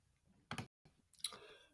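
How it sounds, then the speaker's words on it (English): A few light clicks of typing on a computer keyboard, two short bursts of key taps separated by a brief silence, quiet and close with no talking. "I'm actually using my keyboard to type this because I'm lazy"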